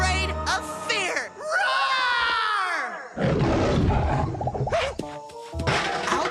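A cartoon cat character from the Talking Tom game lets out a long, loud roar with wavering pitch, followed by voiced growls and a brief animated yelp near the end.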